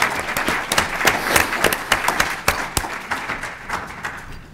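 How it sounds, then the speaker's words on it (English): Audience applause at a talk on sustainable security, made of scattered, uneven claps with sharp individual hand strikes, moderately loud and lasting several seconds without talk. "I want to give them a round of applause for supporting the people's budget"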